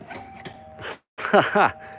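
A doorbell chimes in two rings at a mobile home, a brief pause separating them, with light background noise.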